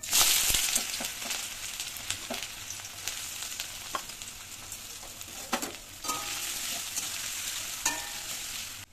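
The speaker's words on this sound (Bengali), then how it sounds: "প্রথমেই হচ্ছে পেঁয়াজ আর লঙ্কাটা একটু হালকা করে ভেজে নেবো" Onion and green chili fry in oil in a wok with a continuous close sizzle, punctuated by scraping clicks of a spatula stirring through the pan.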